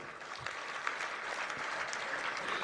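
Steady crowd applause and clapping at an outdoor farmers' rally in Punjab, a dense, continuous wash of hand claps lasting throughout, with faint voices mixed in.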